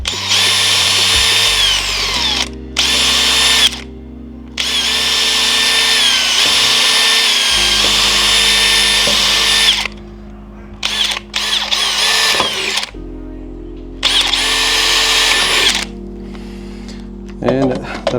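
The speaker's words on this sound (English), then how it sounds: "I'm going to pre-drill my holes because this is hardwood" A power drill pre-drills holes in hardwood in several close, loud whining bursts of a few seconds each, separated by short pauses, with faint handling noises between runs.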